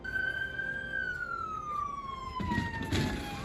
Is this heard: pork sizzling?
no